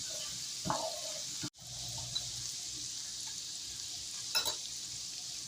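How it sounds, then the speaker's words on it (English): Onion cooking in melted butter in a pan, a steady soft sizzle that runs throughout, with a few brief stirring scrapes and one short dropout. "so the onion and the butter is going to cook for a little while"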